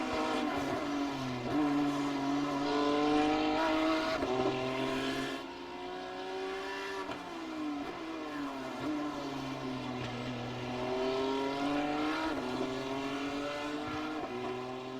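GT3 race cars roar around the Imola circuit, their engines revving up and down through gear changes in a sustained, loud drone with no talking.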